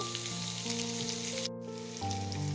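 Potato and pumpkin pieces fry in a pan with a steady, close sizzle that runs throughout, broken by a brief drop near the middle; no one speaks.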